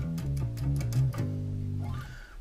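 A bass guitar works through a short riff sequence for a song, a run of low plucked notes that step and repeat before a final note slides away, heard with no voices.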